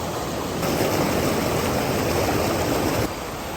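A cold mountain river rushing through Cocora Valley, Colombia, a dense, steady broadband roar of flowing water, close and loud, with a slight surge in the middle.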